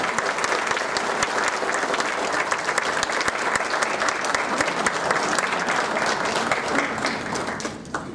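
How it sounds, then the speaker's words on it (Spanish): A crowd at a community anniversary gathering in General Treviño breaks into loud, sustained applause, with sharp individual claps standing out from the dense wash and a few voices faintly mixed in. "Un aplauso para él."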